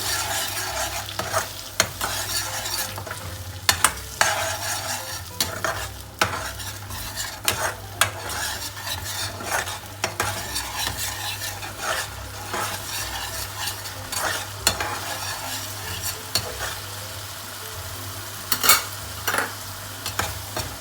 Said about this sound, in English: the ginger chili and garlic paste. Make sure at this juncture it's cooked well, and the heat is medium.